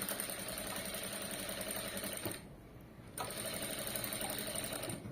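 A sewing machine stitches the front panel of a princess-cut blouse with a shaped belt. Its close, steady whirring runs continuously and drops briefly to a quieter hum midway before resuming, with no speech.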